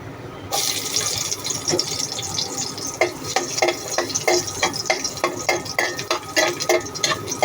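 Garlic sizzling in oil in a pan, with no onion, while a utensil stirs it. The frying hiss is steady and close, and scraping clinks sound repeatedly and more densely in the second half.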